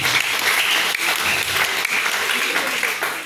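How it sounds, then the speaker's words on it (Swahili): A church congregation bursts into sustained applause for Lord Jesus during a sermon, dense clapping that fills the room and carries on throughout. "Chapia Bwana Yesu makofi basi."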